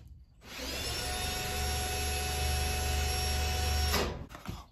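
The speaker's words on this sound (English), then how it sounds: "I'm gonna have to put a little tiny drill bit in that guy, drill a little hole, and then the screws will go right in" A small drill bit bores a pilot hole for screws while hanging shade cloth, a steady, loud whirring grind for about three and a half seconds that stops abruptly, followed by a few light knocks.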